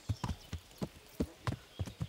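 A horse's hooves clip-clop at a steady walking pace in the medieval game Kingdom Come: Deliverance, about a dozen close, distinct thuds alone.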